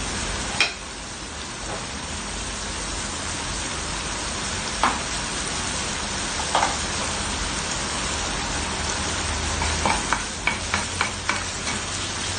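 Minced beef cooking in a pan for Filipino menudo gives a steady, loud sizzling hiss throughout, broken by occasional sharp clicks and scrapes of a spatula, with a quick cluster of taps near the end.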